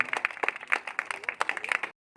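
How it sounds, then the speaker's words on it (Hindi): Loud applause from a village crowd at an Ambedkar Jayanti celebration, dense fast clapping mixed with a few voices, ending abruptly. "जोरदार ताली से आना चाहिए"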